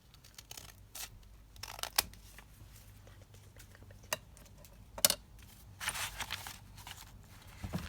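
Scissors trimming paper at the top of a handmade paper doll cover, a few quiet snips and rustles spaced out over several seconds.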